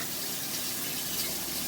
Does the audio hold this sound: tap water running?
yes